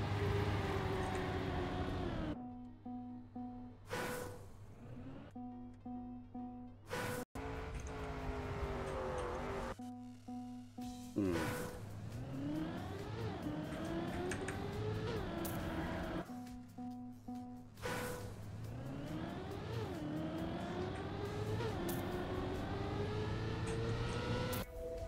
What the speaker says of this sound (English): Let the car roll.